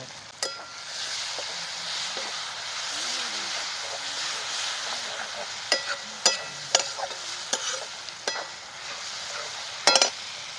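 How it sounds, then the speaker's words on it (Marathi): Mahua fruits fry in a pan with turmeric, giving a steady hissing sizzle, joined later by a series of sharp spoon knocks and scrapes against the pan, close by and without talk. "ते चांगलं तळून घेतलं हळद घेते टाकून"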